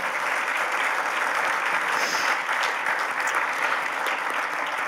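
Sustained, dense applause from an audience at an awards ceremony, steady and loud throughout with no pauses, filling the room from start to finish.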